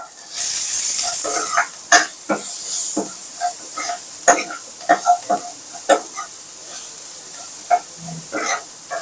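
Onions softening with a little salt in a pan for a dal-style curry give off a steady sizzle and hiss. Scattered stirring scrapes and taps break it up, and a loud burst of steam rises near the start.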